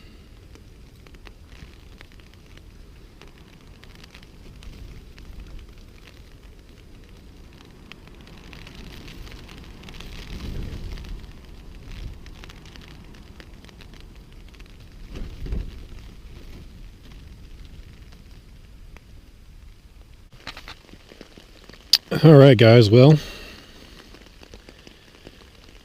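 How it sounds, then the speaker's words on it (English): Steady, soft rain patters on a surface throughout at a backpacking camp in the Grayson Highlands, with a brief louder burst of voice-like sound near the end. "Pretty much right on cue, here comes the rain."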